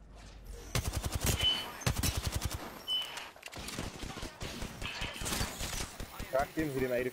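Gunfire in an online shooter video game: rapid bursts of close shots crackle in quick repeated volleys, with voices talking in between.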